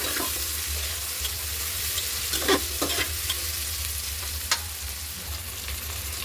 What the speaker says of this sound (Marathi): आता मी याच्यामध्ये टोमॅटो घालून घेते